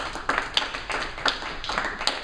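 A small audience at a student improv show on Long Island claps sparsely, a thin smattering of separate hand claps rather than full applause.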